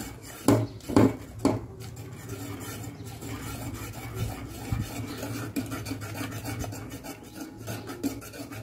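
Rice flour paste made from ration rice is stirred briskly in a pot, giving rough rasping and scraping strokes, a few louder scrapes early on, then a steady lower scraping with occasional knocks.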